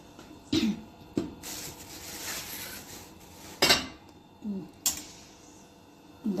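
Plates and cutlery clink and clatter in a few sharp, close bursts as Egyptian koshari is served into dishes, with quieter kitchen rustling between them.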